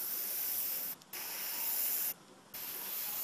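Two long hissing bursts of aerosol spray paint onto a Bolt Action Hetzer tank model, each broken by a brief pause, close and fairly quiet.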